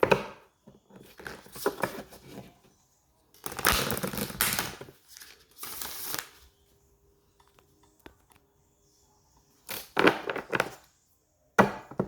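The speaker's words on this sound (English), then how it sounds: "One more shuffle." A deck of tarot cards is shuffled during a love reading. The cards give several short bursts of papery riffling and slapping, separated by quiet pauses.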